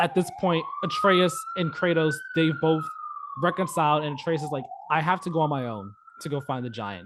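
An emergency vehicle siren passes outside, its sustained tone slowly rising and falling throughout, running under continuous close conversation.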